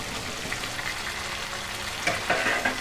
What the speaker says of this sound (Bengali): সেই ক্যাপসিকাম কুচি করে দিয়ে দেব মাংসের মধ্যে